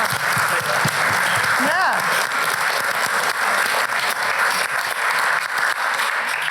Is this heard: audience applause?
yes